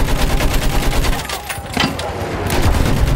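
Rapid machine-gun bursts in a desert combat video game, dense crackling fire that dips briefly then resumes loud and close, with voices calling out over the shooting.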